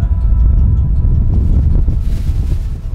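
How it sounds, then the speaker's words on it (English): Strong 50 to 60 mph wind on the upper Grand Teton roars and buffets against the microphone in heavy, continuous gusts with low rumbling turbulence. "Getting blown around by 50, 60 mile an hour winds on the upper part of the mountain."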